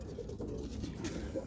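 A pigeon coos softly at close range, low and muffled against a steady background murmur, with no speech.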